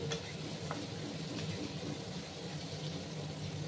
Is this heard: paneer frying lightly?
yes